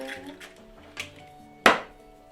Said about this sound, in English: So I'm going to crack 2 eggs into a bowl.